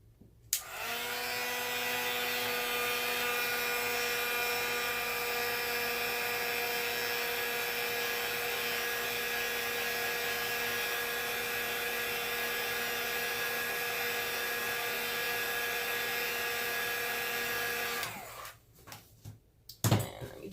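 A heat tool blows steadily on a handmade paper flower to dry it, a loud continuous whirring hum with a fixed pitch that runs for about seventeen seconds before switching off, followed by a few faint handling knocks.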